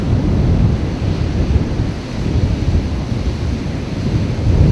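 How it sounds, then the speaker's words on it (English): Ocean waves rolling in at Gold Beach on a windy day: a loud, continuous low roar of surf mixed with heavy wind buffeting the microphone, no voices. "you can just sit back and listen to the waves roll in"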